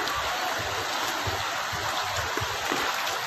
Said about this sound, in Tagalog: ang lakas pa ng agos.